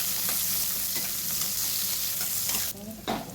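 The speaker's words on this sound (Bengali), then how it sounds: "পেঁয়াজগুলো হালকা হালকা করে ভেজে নিতে হবে।" Onions frying lightly in a wok after garlic and green chillies, with a steady close sizzle and scraping stirs throughout, the hiss dropping briefly near the end before another stir.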